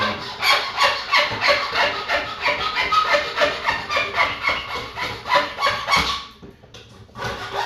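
A hand saw cuts through wood with steady, rhythmic back-and-forth rasping strokes, close and fairly loud, about a dozen strokes before the sawing pauses briefly near the end.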